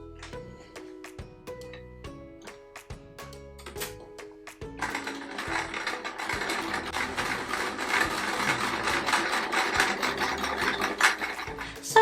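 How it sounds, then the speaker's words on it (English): A sewing machine stitches quilt patches together, first in short separate mechanical bursts, then settling into a steady, close whirring run of rapid needle strokes. "We're now going to sew the 2 rectangles on either sides of the squares."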